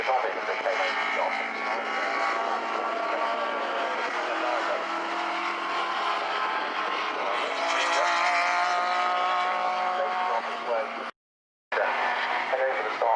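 Special Saloon and Modsports race cars at Snetterton roar past in a continuous loud wash of engine noise, with a commentator talking over it and a brief dropout near the end.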